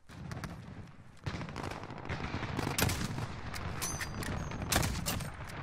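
Automatic and single-shot gunfire in the video game Modern Warfare Ground War, with sharp repeated cracks and bursts of rapid fire over a busy battlefield din. The shots vary in distance and come at an irregular rhythm.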